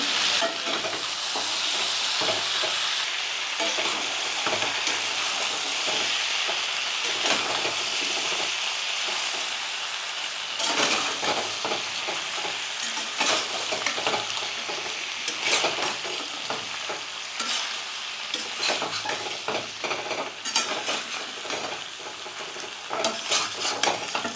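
Country chicken sautéing in a pan for a dish with cauliflower, giving a continuous loud sizzle with intermittent spatula scrapes and stirring clatter, the meat having released its water.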